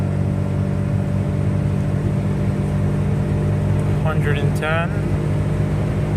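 A 1999 Honda Vamos kei van held at full throttle in fourth gear at around 100 km/h, its engine droning steadily at high revs with road noise beneath, and someone speaks briefly over it.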